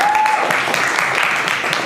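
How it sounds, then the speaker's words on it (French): Steady audience applause fills a conference room at a cosplay convention, a dense, even wash of clapping lasting a couple of seconds with a brief tone at the start. "On peut l'applaudir."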